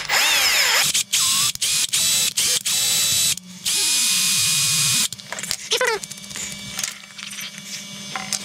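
Threads being cut by a tapping machine while building a mirror charging station for a Car System vehicle, with bursts of high whining motor separated by short gaps, then softer scraping and ticking mechanical sounds.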